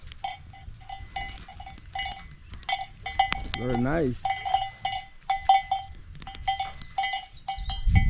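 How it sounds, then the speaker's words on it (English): Clanking cowbells ring irregularly from several grazing cattle nearby in an African village, with a goat-like bleat partway through and a brief spoken remark. "Those bells, they help to tell the herdsmen where the cows are."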